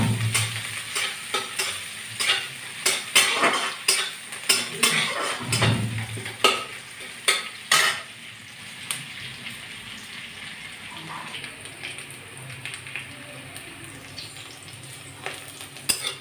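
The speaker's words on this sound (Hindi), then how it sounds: "प्याज के टिके लाल कर भाजबे" Onions frying in a pan while being stirred, with a steady sizzle under rapid, rhythmic scrapes and knocks of a spatula that thin out after several seconds, leaving mostly frying hiss, close and without talking.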